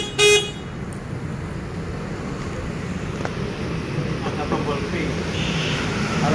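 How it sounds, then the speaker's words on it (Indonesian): A single short horn toot from a Volta 401 electric motorbike sounds near the start, followed by a steady low rumble of a vehicle idling nearby. "Ada klakson juga."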